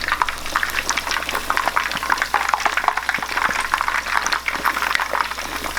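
Pork belly pieces fry skin-side down in hot oil, giving a dense, continuous bubbling crackle that stays loud and close throughout with small popping spikes.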